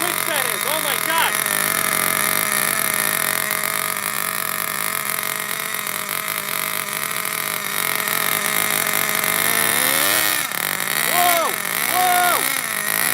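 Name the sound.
nitro engine of Traxxas Revo 3.3 RC truck idling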